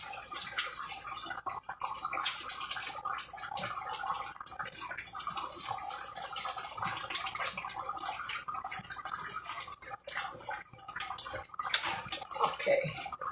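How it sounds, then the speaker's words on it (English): Almendrado, a Oaxacan chicken dish with almonds, bubbling in a pot on the stove, thick sauce popping and splattering in quiet irregular spits and crackles, close and soft. "See, I try to keep the stove clean, but this splashes a lot."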